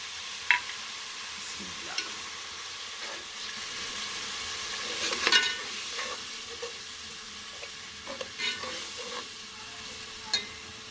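Chillies frying with tomato paste and turmeric masala in a pan, a soft steady sizzle broken by repeated spoon scrapes and stirring clicks at close range.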